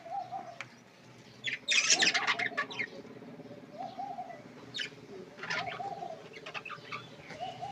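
Pet sparrow-like birds in a village home cooing and chirping, with a soft repeated coo running low throughout and bursts of bright chirps and tweets layered over it, close and moderately loud, no talking.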